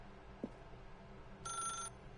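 A telephone in The Stanley Parable gives one short, bright electronic ring burst, fairly faint and alone, after a small click.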